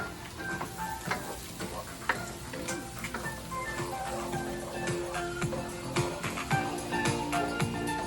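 Tomato sauce and garlic sautéing in a pan for Filipino puchero, a steady moderate sizzle with scattered ticks and scrapes of stirring running throughout.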